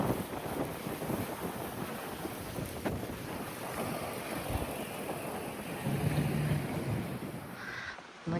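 Strong wind in Doha, Qatar buffets and roars across the microphone throughout, steady and rumbling with occasional gusts, no talking.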